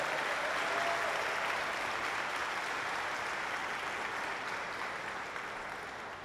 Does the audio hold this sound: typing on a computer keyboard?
no